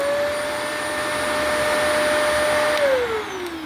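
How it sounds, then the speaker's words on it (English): Vacuum cleaner running steadily with a loud whining motor tone resembling a Dyson DC-25 or DC-14, holding pitch then winding down as it is switched off near the end. "It sounds just like a Dyson DC-25 or a DC-14."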